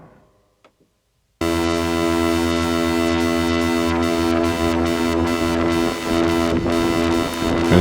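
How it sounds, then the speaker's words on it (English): After a brief quiet start, a Syntrx II synthesizer swells into a loud, buzzing, distorted drone, with its modulation signal sent through a delay effect to give a pulsing, repeating texture. "And now our modulation signal is being delayed."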